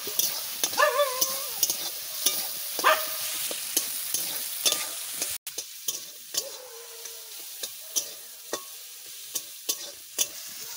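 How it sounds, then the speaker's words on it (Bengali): Potatoes and spice paste are stirred and fried together in a pan, with a continuous sizzle broken by repeated spatula scrapes and knocks. A dog barks faintly a couple of times early on. "এরই ভিতরে আমি আলুটা দিয়ে দেব, আলুটা একসাথে কষাই নেব।"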